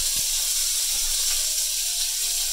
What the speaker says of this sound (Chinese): 煎鸡皮嗰边先系啦，煎整啲鸡油